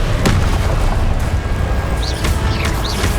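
A Confringo blasting spell going off in Hogwarts Legacy, booming low rumbles and bursts layered over dense continuous combat noise, loud and close, with a few sharp cracks and whooshing spell effects.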